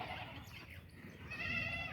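Goats bleating outdoors, a faint, distant bleat rising near the end over a low rustling background.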